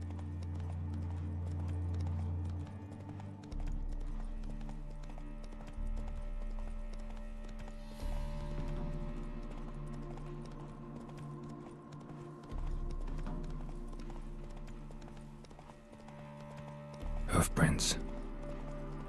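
Hoofbeats of Roach, the horse in the video game The Witcher 3, a steady clip-clop close by, with a brief whinny and a voice speaking over the hooves.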